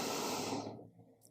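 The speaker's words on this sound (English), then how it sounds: "Taking some deep breaths." One slow, deep exhale during a yoga forward stretch, a soft, close breathy rush that fades out after about half a second, followed by quiet and a faint brief noise at the end.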